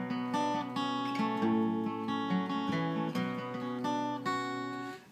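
An outro guitar line is picked in a repeating pattern with hammer-ons and pull-offs. The notes ring out clearly, fairly quiet and alone, and flow into one another in a steady melodic cycle.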